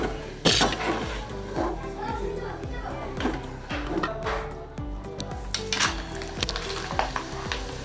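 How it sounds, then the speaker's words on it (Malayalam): Steady oil sizzling throughout as bitter gourd fries in a pan, with occasional stirring clatter and someone speaking over it. "ഈ വർഷത്തെ കയ്പൊക്ക വറുത്തെടുക്കാം"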